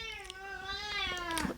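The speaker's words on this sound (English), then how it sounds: "that's Einstein, our cat, and you can hear him now" A pet cat named Einstein gives one long, drawn-out meow that rises and then falls at the end, close and clear indoors with no talking over it.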